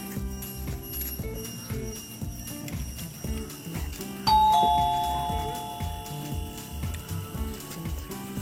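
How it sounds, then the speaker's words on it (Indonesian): A doorbell is pressed at the entrance of a boys' dormitory, giving a single bright ding-dong chime that rings out over steady background music and then fades slowly. "kita pencet belnya dulu"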